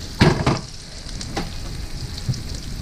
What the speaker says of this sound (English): I'm going to combine these two saucepans.